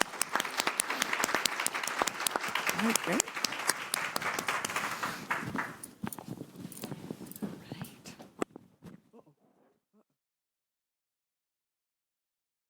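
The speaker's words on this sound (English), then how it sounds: "A big round of applause for our panelists." An audience applauds panelists at a health care AI event, dense clapping that thins after about six seconds and fades out by ten, with a brief voice near the end.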